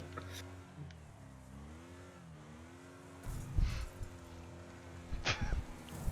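A car races fast in a racing video game, a faint wavering engine whine rising and falling with a few louder bursts of revving and tire noise.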